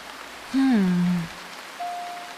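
Rain in the game Retro Rewind Video Store Sim makes a soft, steady hiss in the background, while louder tonal game sounds sweep over it.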